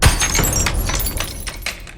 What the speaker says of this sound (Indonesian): Dan si fotonya pun terjatuh lalu pecah dan menimbulkan suara.